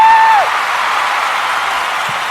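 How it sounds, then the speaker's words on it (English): A short canned round of applause and cheering swells right after a brief tone cuts off, then holds as a steady, fairly loud wash of clapping. "So a round of applause for all winners here."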